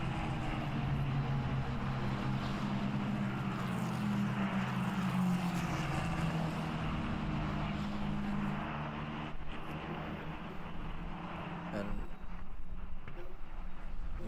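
A Formula 4 race car leading the pack at Brno drones past, its engine note rising and then fading. The sound is faint and distant, with a race commentator talking over it.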